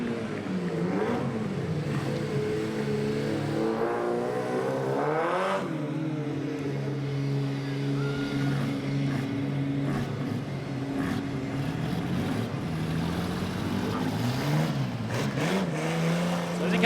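Super Street Sedans race at Cairns Speedway, engines rising and falling as cars rev and pass, with a sustained whining drone throughout.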